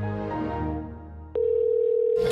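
A telephone dial tone comes in as a steady, loud, unbroken tone after a short stretch of fading, muffled background sound.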